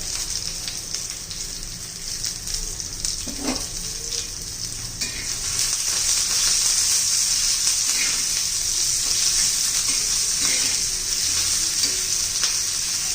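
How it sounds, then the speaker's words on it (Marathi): Crushed cumin seeds and crushed coriander seeds sizzle and crackle steadily in hot oil in a pan, a loud continuous frying hiss that swells louder midway, with no talking. "तेल आता पाहिलं की गरम झालेलं आहे. आपण मी त्याला ठेचलेलं जिरं घातलं."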